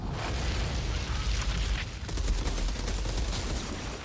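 Dense, loud gunfire and booming blasts from the shooter video game Outriders fill the stretch in rapid bursts, with crackling impacts throughout and no talking.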